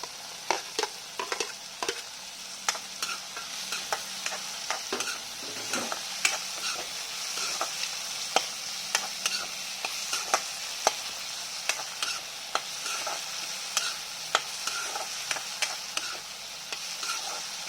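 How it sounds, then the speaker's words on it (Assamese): Tomatoes, ginger-garlic paste and spices fry in oil in a pan for a chicken dish, a constant soft sizzle broken by frequent sharp clicks and scrapes of a spoon stirring, with no talking. "এতিয়া এইখিনি অকণমান মই ভাজ খাবলৈ দিম। মছলাখিনি ভজা ভজা হৈ গ'ল।"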